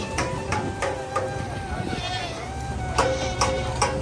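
Goats bleating at a crowded goat market, with several short calls rising over a steady murmur of voices and market bustle, close to fairly near.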